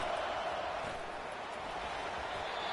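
Home crowd at a football game roaring in a loud, sustained wash of cheering and yelling from a large stadium audience, steady and unbroken for the whole stretch.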